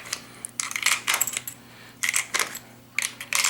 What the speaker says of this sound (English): We now have 30 rounds fully loaded